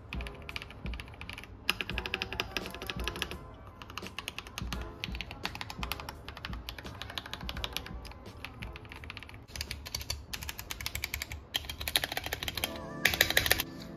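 Rapid, close clicking of keys on a computer keyboard, a dense, uneven patter of keystrokes continuing throughout with no voices.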